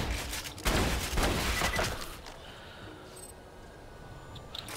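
Rapid bursts of automatic gunfire rattle out in the video game Tiny Tina's Assault on Dragon Keep, a dense volley for about two seconds that then gives way to quieter game ambience.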